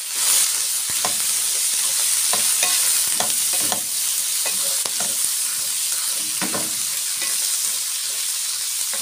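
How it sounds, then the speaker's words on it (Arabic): Three onions, cut into strips, sauté with meat in a pan, giving a steady bright sizzle and hiss broken by repeated scraping stirs, close and continuous with no talk. "هشوحهم فيهم كويس قوي"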